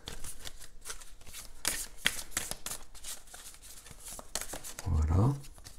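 Tarot cards being shuffled and slid across a surface at close range, a quiet run of soft papery riffles and swishes, with a voice speaking French over parts of it.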